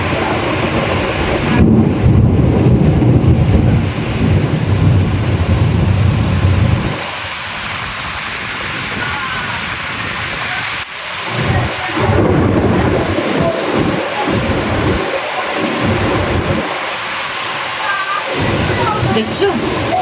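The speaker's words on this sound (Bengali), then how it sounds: "দেখছো জোরে ঝড় বৃষ্টি নেমেছে" A thunderstorm with heavy rain and strong wind gives a loud, continuous roar of downpour and gusts. Rumbling swells through it, and a voice is faintly audible at moments.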